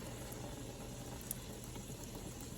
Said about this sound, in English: And I drain the other can.